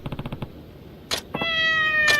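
A cat in the Like A Dragon: Ishin video game makes a quick run of short chirps, then two drawn-out, clear meows, close and alone with no talk.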